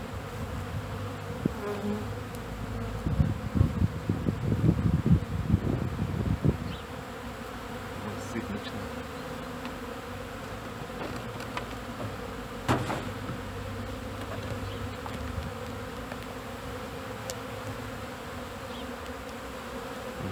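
Honeybees buzz on their spring cleansing flight at an apiary. A dense swarm hum swells near the start, then settles into a steady, fainter drone with bees passing close by now and then, and no one speaks.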